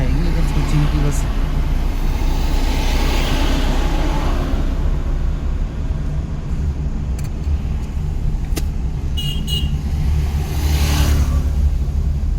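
A car engine hums and revs steadily throughout a driving lesson, with a constant road rumble underneath. A few brief clicks and knocks come near the end.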